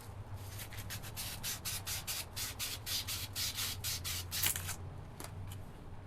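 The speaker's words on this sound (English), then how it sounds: "just run wood up and down, and you can pick off aluminum pieces" A piece of wood rubbed up and down against a smooth aluminum part of a generator with a thrown rod, giving a steady series of soft, close scraping strokes in a quick back-and-forth rhythm.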